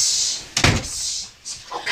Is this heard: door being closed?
yes